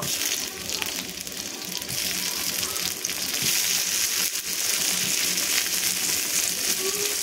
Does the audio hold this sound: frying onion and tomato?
yes